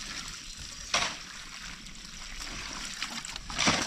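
Water is poured onto a newly planted calamansi seedling, trickling and splashing softly at close range, with a few louder gushes breaking the quiet, steady flow.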